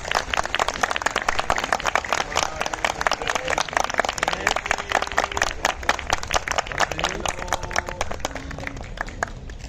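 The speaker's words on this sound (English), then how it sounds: "please give them a big round of applause" A crowd applauding steadily at a school prize distribution ceremony, many hands clapping in a dense, continuous patter that holds for the whole stretch.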